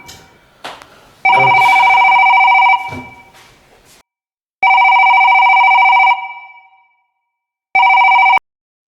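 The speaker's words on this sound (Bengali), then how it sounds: "এই দেখো না ফোনটা বাজতেছে" A telephone in a hotel room rings in three loud electronic bursts separated by pauses, with faint background noise between the rings.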